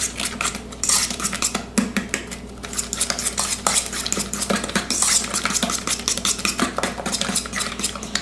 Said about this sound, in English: Mix that in. Break down any lumps.